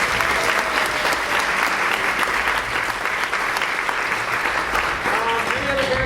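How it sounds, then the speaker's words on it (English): An audience at a school fall band concert claps loudly and continuously for several seconds, a dense, sustained round of applause. "Big round of applause for Ashanti Bethay."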